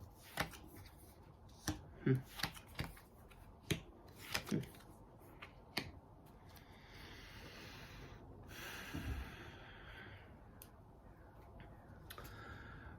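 A deck of cards is shuffled for a reading: a quick burst of crisp snaps and riffles in the first half, then a quieter rustle, all fairly faint and close with no speech.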